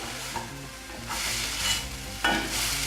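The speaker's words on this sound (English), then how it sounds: "So I'm just going to wait for my onions to be light brown" Onions fry in a pan until light brown, crackling in a continuous sizzle that swells in short bursts as they are stirred, with soft music playing underneath.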